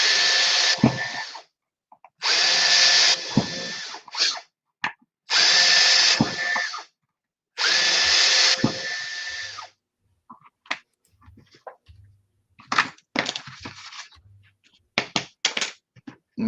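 A power drill bores holes during a smart cache kit build, in four loud bursts of whining each lasting a second or two, followed by shorter intermittent revs and clicks.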